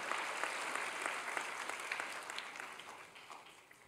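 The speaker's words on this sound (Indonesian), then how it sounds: "Mari dong kita tepuk tangan lebih luar biasa lagi untuk mereka semua." A church congregation claps together during a Sunday service, a soft, dense patter of many hands heard at a distance, holding steady and then slowly tapering off.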